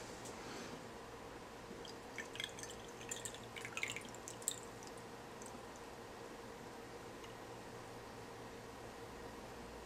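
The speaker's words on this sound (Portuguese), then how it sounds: "vamos completar agora com água" Water poured from a container into a drinking glass in a classroom experiment, faint trickling and dripping over a steady background hiss, with a few brighter splashes near the middle.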